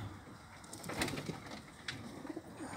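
Soft, low pigeon coos with a few short calls and rustles from inside a pigeon loft box, fairly close against a faint steady background hum.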